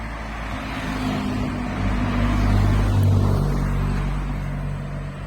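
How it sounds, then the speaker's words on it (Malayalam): Traffic on a hill road in Kerala: a motor vehicle drones closer, swells to its loudest at the midpoint, then recedes, with steady engine rumble throughout and no voices. "വണ്ടികൾ പുതിയ വരുന്നുണ്ട് കേട്ടോ"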